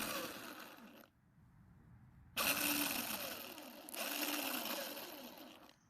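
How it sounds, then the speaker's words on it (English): A small Ryobi electric-start motor whirs in bursts powered from its terminals, buzzing for about a second, cutting out, then running again in two longer spells, close and fairly loud. "it looks like the motor works just fine"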